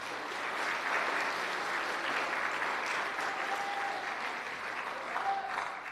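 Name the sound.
audience applause for two-sport athletes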